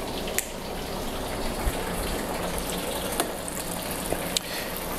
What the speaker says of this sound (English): I open the bottom valve all the way again and it allows me to push water in from both sides